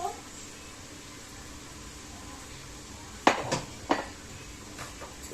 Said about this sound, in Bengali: এটা কলকাতার কড়াই, এই জন্য খড় খড় আওয়াজ আসছে